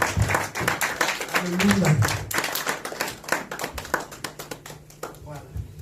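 A church congregation claps and cheers in praise, a dense run of close hand claps mixed with voices and a sung exclamation, thinning toward the end.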